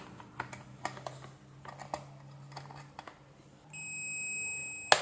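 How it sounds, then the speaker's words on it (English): Multimeter set to continuity while testing an electric kettle's thermostat switch: a few soft taps and clicks of test leads, then a sustained high electronic beep near the end, close and fairly quiet. "Set multimeter to continuity."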